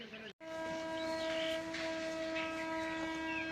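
A weekly Bandra passenger express train sounds a long, steady horn at close range as it arrives, holding one sustained tone for several seconds over a rumbling background.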